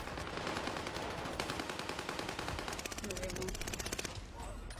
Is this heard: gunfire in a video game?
yes